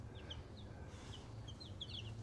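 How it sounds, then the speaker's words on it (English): Newly hatched chicks from a home incubator, a mix of breeds, peeping in high, thin chirps scattered throughout, faint over a low steady hum. "here are the little chicks."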